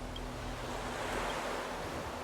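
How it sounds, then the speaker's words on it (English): Steady ocean surf rolls and washes continuously in the video game Honkai Star Rail, a broad soft roar of waves with no talking. "Just listening to the waves and watching the ocean"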